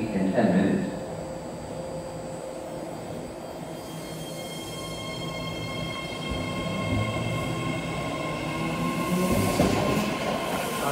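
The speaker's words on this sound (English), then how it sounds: "Looks like that test train is going to Richmond, which is a the new 3-car." A new 3-car Fleet of the Future test train bound for Richmond hums and rumbles at South Hayward Station platform, a steady low drone with faint squeals and brief announcement-like voices in the background.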